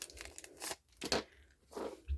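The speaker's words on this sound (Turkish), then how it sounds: "Şimdi paketleri tek tek makasla açacağım." Scissors cutting open foil trading card packs from a 2021 Kick Off tin, heard as three crisp bursts of crinkling, tearing foil with short quiet gaps between them, close and without talk.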